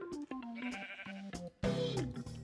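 Sheep in the Minecraft video game bleat in a quick series of short, wavering calls, with a louder, fuller burst near the end, and no talking over them.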